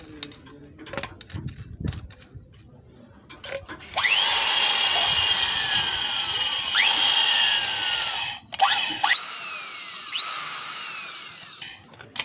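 A power drill with an 8.5mm bit drills out stripped oil drain bolt threads, whining loudly and steadily for several seconds, easing off briefly and restarting, with bit-grinding noise; quieter handling clatter comes first.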